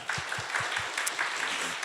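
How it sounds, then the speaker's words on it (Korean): A church congregation at a Sunday youth worship service claps in thanks, dense applause mixed with a few distinct low thumps near the start. "고맙다는 의미로 박수하도록 하겠습니다"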